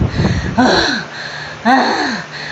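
Heavy panting after an exercise challenge: two loud, rasping breath bursts with a wheezy, gasping edge, separated by a quieter pause, close to the microphone with no speech.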